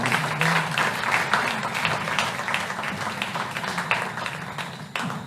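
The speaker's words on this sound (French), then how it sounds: "vous demander de l'applaudir, Mme Michèle Morose" Steady applause from an audience at a museum inauguration, a dense wash of claps holding at an even level for several seconds with no voices on top.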